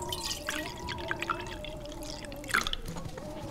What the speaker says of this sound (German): Ah, Moment, in die Flasche gießen.